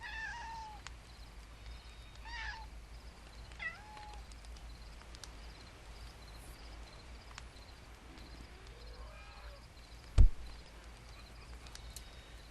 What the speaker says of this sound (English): Keep on hearing a cat meow